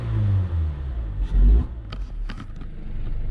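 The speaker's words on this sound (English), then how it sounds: "let me get some footage of the intake noise" BMW E36 engine intake noise while revving, a loud, close low rumble that swells and drops with a few throttle blips and some scraping clatter, no talk.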